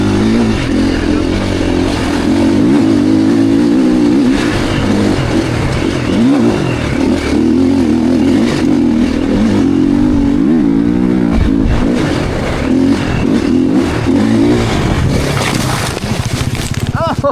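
A 2026 Triumph TF450C motorcycle rides a lap, its engine holding a steady loud drone with shifting revs throughout, close to the rider, with voices heard over the noise.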